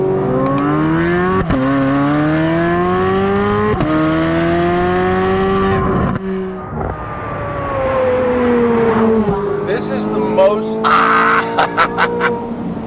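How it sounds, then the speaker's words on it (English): A freely revving American sports car engine with a Ferrari-like wail, loud and close, rising and falling in repeated throttle sweeps with a brief dip mid-way and a squeal-like burst near the end. "It's a wonderful sound, and it just revs so freely."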